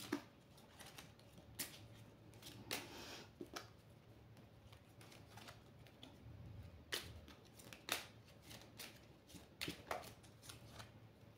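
Oracle cards being cut and shuffled during a general card-reading session, with soft papery riffles and sharp card slaps scattered irregularly across the clip, fairly close and quiet, with no talking.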